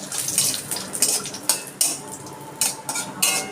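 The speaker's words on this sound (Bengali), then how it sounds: "ঘির মধ্যে আমি অল্প কটা কাজু বাদাম একটু ভেজে নিচ্ছি।" A handful of cashew nuts fry in ghee in a kadai for apple payesh, with a light sizzle under repeated spatula scrapes and metallic clinks in an uneven rhythm, close and alone.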